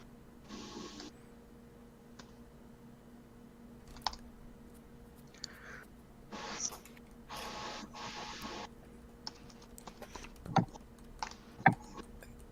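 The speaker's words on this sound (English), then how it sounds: "Give me a second, I'm still typing these." Computer keyboard typing in a quiet room: scattered bursts of keystrokes and clicks, faint and unhurried, with no one speaking.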